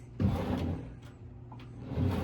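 A hotel room drawer slides open and shut with a few scraping, rumbling pushes and a soft knock between them, close and fairly quiet, no one talking.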